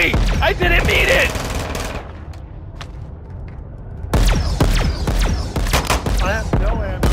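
Call of Duty Warzone gunfire: loud rapid automatic bursts with sharp cracks, a brief lull, then another heavy stretch of fast shots, close and dense, with a voice shouting over it.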